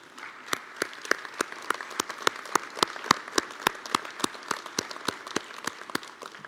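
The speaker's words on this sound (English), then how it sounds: "please give them a round of applause for all their hard work" Audience applauding council members at a city state-of-the-city address, a thin, sparse scatter of distinct hand claps in an even rhythm, moderately close and fairly quiet, no talk over it.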